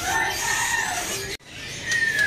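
A caged murai, or white-rumped magpie-robin, sings clear whistled phrases, two loud sweeping bursts separated by a brief pause, close and prominent.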